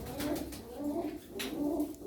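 Domestic tumbler pigeons, blue-spotted and speckled birds, coo in soft repeated phrases, about three low rolling calls in close succession, near but quiet, no voices.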